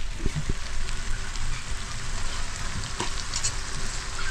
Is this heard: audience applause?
no